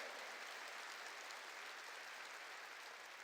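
A church congregation claps together in praise during a Korean worship service, a faint, steady, evenly textured wash of applause heard from a distance with no voices over it.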